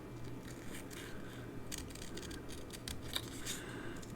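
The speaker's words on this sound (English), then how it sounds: "you just move the paper and keep the scissors in one spot" Scissors snip steadily through paper while cutting out a bear shape, the paper turned against the blades held in one spot; a close, continuous run of soft crisp cuts with a low steady hum underneath.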